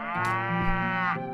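A cow moos once in Mount & Blade: Warband, a single drawn-out, close, clear bovine call.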